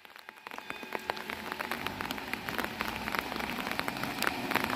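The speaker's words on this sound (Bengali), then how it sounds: "বৃষ্টি চলছে" Steady rain patters on a hard surface in Kalimpong, a dense crackle of drops with no voices, continuing throughout.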